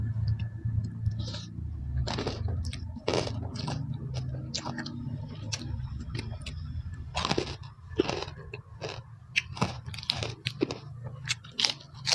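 Crispy pork crackling, eaten alongside a spicy squid papaya-style salad and fresh vegetables, is chewed close to the mic in a run of loud, irregular crunches and bites lasting several seconds.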